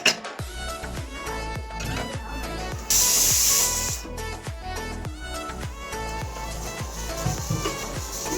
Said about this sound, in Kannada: ಇವಾಗ ಕುಕ್ಕರ್ ವಿಜಿಲ್